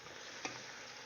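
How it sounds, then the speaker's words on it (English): Small pieces of food sizzle steadily in a pan, faint and even, with one soft scrape of stirring in the middle. "you're just going to keep kind of mixing them around and getting them fried up"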